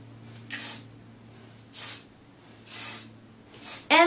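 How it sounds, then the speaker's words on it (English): L'Oreal Mega Spray hairspray sprayed onto curled hair in four short, close hissing bursts separated by pauses, with no talking. "I'm going to be using the L'Oreal Mega Spray. And I'm just going to spray this."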